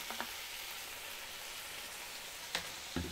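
Green chili hits a pan of frying hot garlic sauce, giving a steady, close sizzle with a couple of light clicks and no talking.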